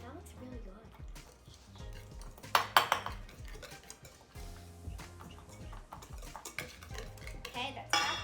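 Brownie batter being mixed in a bowl as cocoa powder is stirred in, with irregular scraping and clinks of a utensil against the dish, fairly quiet, while people talk over it.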